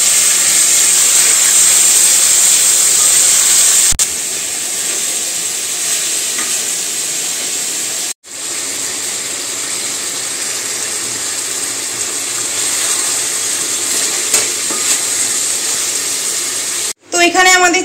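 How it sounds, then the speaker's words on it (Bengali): Marinated chicken is stir-fried with turmeric and spices in a pan, giving a loud, continuous close sizzle and hiss with scraping stirs and a couple of brief cut-outs. "যেটা মা ম্যারিনেট করে রেখেছিল মাংসটা দিয়ে কষানো হচ্ছে"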